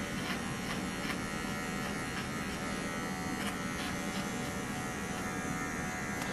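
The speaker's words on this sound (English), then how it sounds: "So this clipper is a cordless, and it's something I like to use" Cordless dog clippers hum in a steady, close electric buzz through a body groom of a puppy-mill rescue dog, continuous and unbroken with no talk.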